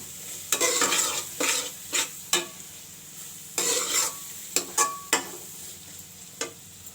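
Finely chopped onion fries in a pan with intermittent scraping stir strokes over a steady low sizzle, close and fairly quiet, with no voices.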